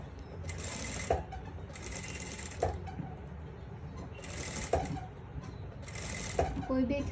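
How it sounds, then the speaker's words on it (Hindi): Sewing machine stitching a corset blouse seam at half an inch, close bursts of rapid whirring stitches with short pauses and clicks between, someone talking alongside. "सेम इसी तरीके से ये साइड पे भी मैं हाफ इंच पे स्टिच लगा दूँगी।"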